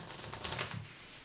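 Playing cards riffled in a push-through table shuffle, giving a quick burst of fluttering, ticking card snaps that peaks midway and fades out, close and moderately loud.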